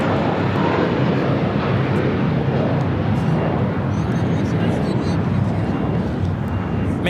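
An American Airlines jet departs LAX, producing a loud, steady broadband engine roar that holds evenly throughout without letting up.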